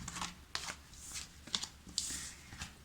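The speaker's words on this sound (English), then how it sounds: "Bear with me, guys, because I have to shuffle here 5 oracle decks" Five oracle card decks get shuffled by hand in a quiet room, giving soft riffling bursts and papery flutters in uneven clusters with brief pauses between them, close and fairly faint.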